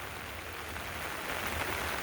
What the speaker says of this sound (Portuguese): Olha só que linda chuva que tá dando.